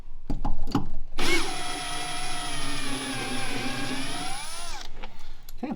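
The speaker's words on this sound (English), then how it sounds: "I am utilizing a ratchet wrench with a Torx bit on it." Power tool whirring for about four seconds, a steady tonal motor whine near and loud, bracketed by a few short clicks and knocks, while a ratchet wrench with a Torx bit backs out a screw on a motorcycle turn signal kit install.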